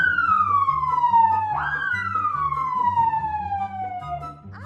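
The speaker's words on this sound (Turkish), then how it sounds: "İşte bu da sirenlerimiz." A loud, close ambulance siren wails in long descending sweeps, echoing as if in an enclosed space, with a rumbling engine beneath.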